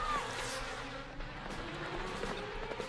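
Buzzing of bees, a steady droning hum that lingers throughout at moderate loudness.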